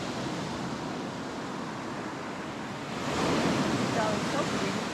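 Ocean waves washing onto a Punta Cana beach in the Dominican Republic, a steady broad rush of surf that swells louder partway through, mixed with some wind.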